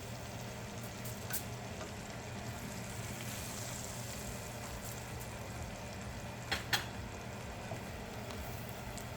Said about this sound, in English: Let the rest of those garlics fry up in the pan, get them nice and brown